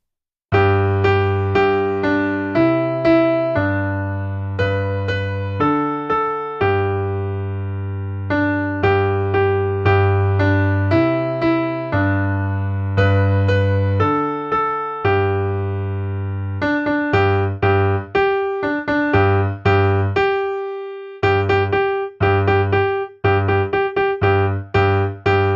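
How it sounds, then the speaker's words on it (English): Piano plays the simple melody of Old MacDonald Had a Farm, clear single notes with a bass accompaniment in a steady beginner tempo, loud and alone with no talking. "In this lesson I'll show you how to play Old MacDonald Had a Farm"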